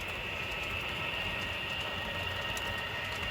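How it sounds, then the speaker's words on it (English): A model train on a home layout runs over a wooden trestle, giving a steady continuous rumbling whir with a constant high whine, close and unchanging throughout. "The train here going over the trestle."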